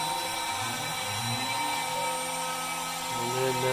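A power tool mills a clamped piece of wood while building a Red Special guitar, giving a steady, close, high-pitched whine that runs continuously with slight pitch shifts and no speech over it.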